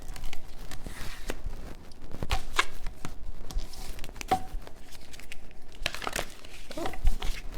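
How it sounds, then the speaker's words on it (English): A deck of cards being shuffled during a tarot-style reading, giving repeated crisp riffling and flicking bursts with papery rustles, close and fairly loud throughout, with no talking. "I was told to shuffle a different deck."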